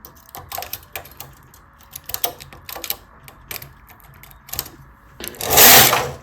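A domestic knitting machine, worked with cable needles to form travelling cables, clacks through a row in sharp bursts of rattling taps, ending in a louder sweeping swish of the carriage, close and alone.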